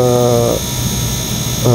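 HVAC vacuum pump running while a micron gauge checks an air-conditioning system, giving a steady loud mechanical drone with whining high tones throughout, with a voice talking at the start and end.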